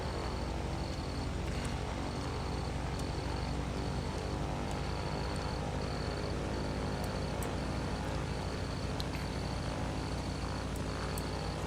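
Steady droning aircraft engine in Kerbal Space Program, a constant whirring hum with a faint repeating high tick running through it, without speech.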